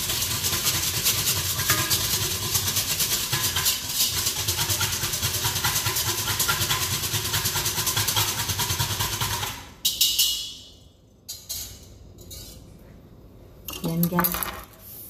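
Ingredients are stirred in a pan after oil is added, the spoon or spatula clattering and scraping against the metal alongside a strong hiss, which then cuts off into a few sparse scrapes.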